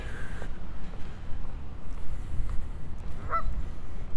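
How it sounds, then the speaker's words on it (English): Geese honk by a lake in Regina, Saskatchewan, a few brief, fairly distant calls over steady outdoor wind and ambient rumble. "Geese, there are always geese."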